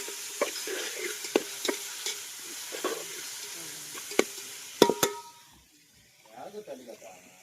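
Gongura leaves sizzle in a hot pan as a utensil scrapes and clinks against the metal in irregular sharp knocks, the frying hiss fading near the end under faint background sounds.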